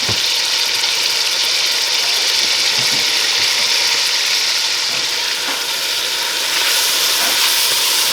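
A pot of minced garlic cooking on a stovetop gives off a steady, loud sizzling hiss that holds evenly throughout with a few faint pops and no talking.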